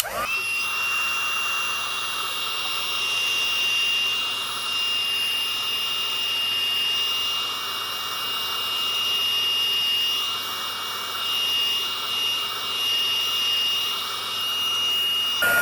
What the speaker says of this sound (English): then we'll use our heat gun